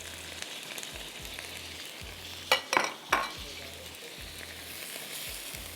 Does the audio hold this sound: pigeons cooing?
no